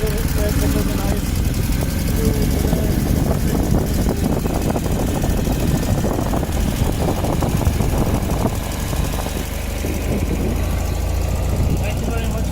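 A Royal Enfield motorcycle engine runs steadily in second gear, a continuous mid-pitched thrum held throughout, with a rider and passenger talking over it.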